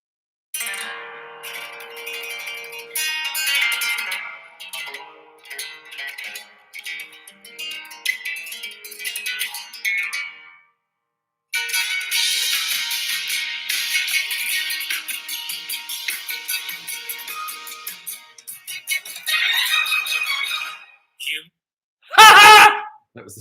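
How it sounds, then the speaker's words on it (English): Opening of the musical Man of La Mancha played from a recording, a steady stream of orchestral music with brief pauses and a louder final burst, heard alone with no talking. "Here is the beginning of Man of La Mancha."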